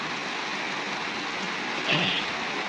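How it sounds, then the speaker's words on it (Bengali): Steady rain pours down with wind, a dense, even wash of hiss that holds for the whole stretch, with a brief louder gust or splash near the end and no voices. "আর বৃষ্টি নামলো। ভালো আবহাওয়া, খুব ঠান্ডা হয়ে গেছে।"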